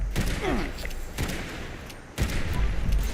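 Video game gunfire while shooting enemies, with a few heavy, cracking shots over a dense, noisy battle din and faint voices in the mix.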